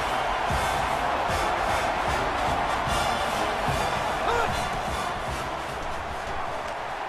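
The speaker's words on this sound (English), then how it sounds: "This crowd in full throat right now." Football stadium crowd at a Kentucky versus Oregon game roaring steadily in full throat, a dense continuous wall of cheering with no break.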